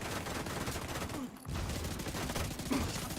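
Video game gunfire, a dense continuous fusillade of rapid shots with a brief gap midway, played back fairly quietly, with no clear talking over it.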